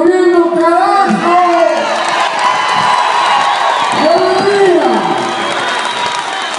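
Large concert audience at an amphitheatre cheering, whooping and applauding loudly and continuously throughout, with shouts and voices rising out of the dense crowd roar.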